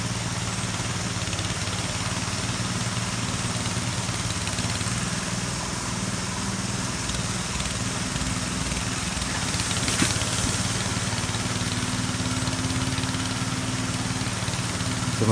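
A tractor engine drones steadily while plowing a field, a continuous mid-pitched motor hum running evenly throughout with no voices over it.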